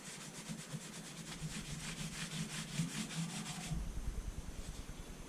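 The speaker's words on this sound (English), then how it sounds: "Now this you can rub it in with your bare fingers." Bare fingers rubbing finish into a wooden electric guitar neck give a steady close swishing friction in quick back-and-forth strokes, easing off toward the end.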